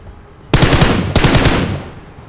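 Close, loud bursts of rapid automatic gunfire in PUBG Mobile, two sustained volleys back to back with a short break between them.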